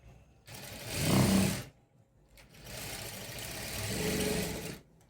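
A sewing machine stitches a three-dart blouse in two close, steady whirring runs, a short one and then a longer one, with a brief pause between them and no talking.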